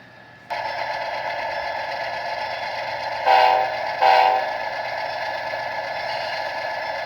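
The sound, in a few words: train sounding whistle and departing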